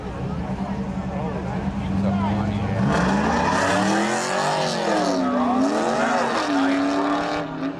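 At Seekonk Speedway spectator drags, a 1999 Chevy Camaro and a 1991 Nissan NX roar steadily, their engine pitch climbing and swooping, while an announcer talks over the noise.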